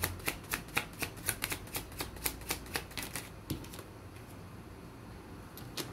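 Tarot cards are shuffled in quick riffling bursts, a rapid run of crisp, evenly spaced snaps that slows and fades, followed by a pause and a couple of soft taps as cards are drawn; quiet and close.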